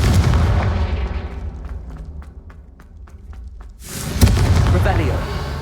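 Confringo fire spell blast in the Hogwarts Legacy video game, a loud booming burst followed by a quieter stretch of soft thuds, then another strong blast near the end.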